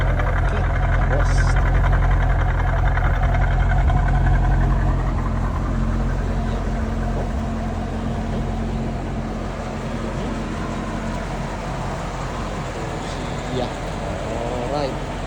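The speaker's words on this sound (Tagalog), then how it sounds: "Nakikita nyo lang po yung sound ng ating exhaust." Chevrolet Lumina SS exhaust idling steadily, a deep continuous low rumble that stays loud and even throughout, heard close with someone talking over it.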